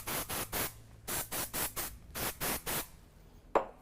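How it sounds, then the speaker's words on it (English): A can of powder hair spray is sprayed onto hair in a series of about ten short, hissing bursts in a quick rhythm, close and fairly loud, followed by a brief click and quiet, with no speech. "So with the powder spray, I might hold here and I'm gonna comb it."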